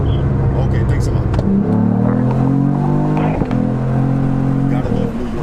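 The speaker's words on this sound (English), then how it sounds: "I love that exhaust." A car exhaust rumbles low and steady, rising briefly as the engine revs, with faint voices in the background.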